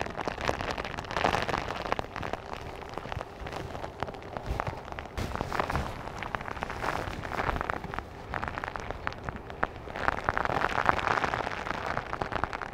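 Rain patters on the surface of Lake Biwa's south basin during bass fishing, a dense, steady crackle that swells and fades without voices.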